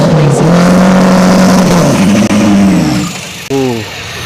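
Turbocharged Ford Racing drag car at a dragstrip test-and-tune session, its engine droning loud and steady, then cutting off before a brief rising rev near the end, with voices faintly underneath.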